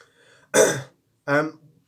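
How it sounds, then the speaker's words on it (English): Two short, harsh bursts of throat clearing and coughing, close up, separated by a brief silence. "Sorry, a bit of a coughing fit."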